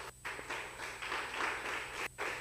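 Audience applause for a school debate speaker at a Roseful International School contest, a dense, steady patter of many hands clapping with brief dips, fairly close and alone without talk.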